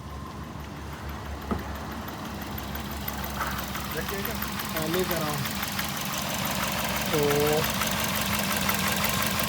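A 2013 Toyota Yaris engine idles with a misfire from a failed number 2 ignition coil, giving a steady uneven rumble, with someone speaking over it near the car.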